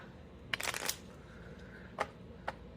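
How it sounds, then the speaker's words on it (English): A burst of card riffle-shuffling, followed by two short sharp taps as the deck is squared, in a quiet room. "I'm going to shuffle one more time."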